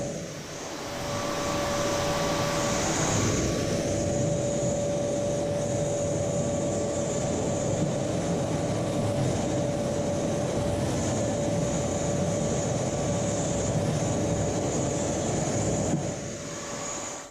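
A Parkside PWD 25 A2 shop vacuum runs steadily with a loud broadband roar and a high whine, starting up near the beginning and continuing throughout without any talking.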